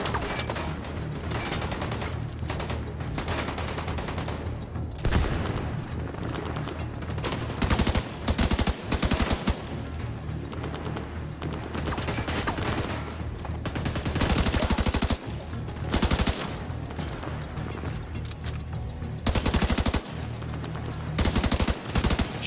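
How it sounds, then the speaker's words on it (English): Gunfire in The Division 2 video game, dense bursts of automatic weapon fire and sharp single shots crackling repeatedly over a rumbling battle backdrop, loud and close, stopping and restarting throughout. "Shoot them before they throw the grenade."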